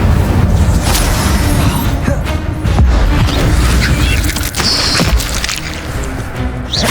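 An Incendio fire spell cast in Hogwarts Legacy, heard as loud booming bursts and crackling blasts within a busy, continuous mix of combat effects, with almost no voice.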